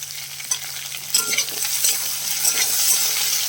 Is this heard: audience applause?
no